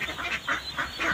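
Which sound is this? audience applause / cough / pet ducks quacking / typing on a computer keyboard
pet ducks quacking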